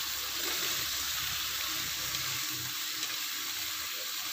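Chopped spring onions go into a stir-fry for mie kuah, with onion and garlic frying in the pan, giving a steady, soft, even sizzle that holds without a break.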